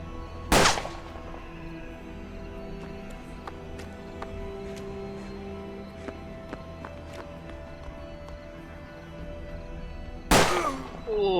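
Two sharp gunshots from the Western-themed video game Hard West, one near the start and one near the end, each a loud broadband crack over a steady low musical drone.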